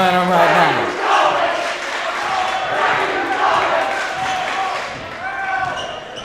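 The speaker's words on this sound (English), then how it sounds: "Linn-Mar crowd chanting where they're going." Home crowd at a Linn-Mar boys varsity basketball game chanting in unison, a loud rhythmic roar of many voices filling the gym.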